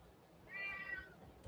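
A single drawn-out meow from a domestic cat, fairly close and moderately loud, rising and falling over about a second in a quiet indoor room with no one talking.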